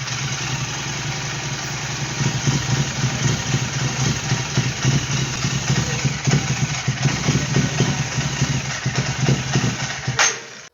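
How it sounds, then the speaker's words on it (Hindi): A Royal Enfield GT 650 motorcycle with a faulty throttle body idles close by, a loud, steady low engine rumble with uneven pulsing that holds throughout and cuts off abruptly near the end. "प्रॉब्लम होने के समय उसका जो आरपीएम का साउंड है वो कैसा रहता है"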